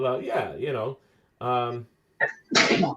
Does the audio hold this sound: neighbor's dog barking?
no